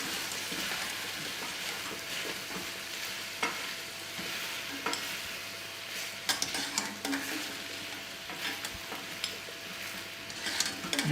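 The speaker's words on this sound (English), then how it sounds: "do our bit gently when you stir, James. Otherwise, we put all artichokes all over the kitchen." Artichokes fry in a pan while being stirred, a steady close sizzle like light rain with scattered soft scrapes and clicks of the utensil, continuous and moderately quiet, without speech.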